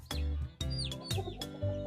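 Chickens cluck repeatedly on a small Thai farm where chicks are raised apart from the hens and ducks swim in a canal nearby. Several loud, close bursts of clucking come in quick succession with no talk over them.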